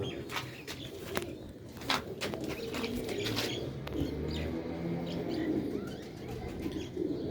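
Sialkoti pearl pigeons coo in low, repeated rolling calls nearby, mixed with scattered sharp chirps and brief wing flaps over a soft background.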